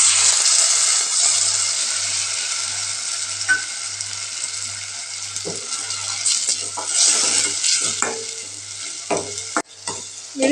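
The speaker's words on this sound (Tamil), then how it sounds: "இப்போ அரைச்சி வச்சு விழுதை ஊற்றிக்கலாம்" Ground paste sautéing with softened onions in a hot pan, a loud continuous sizzle with repeated stirring scrapes, heavier toward the end, and no voices.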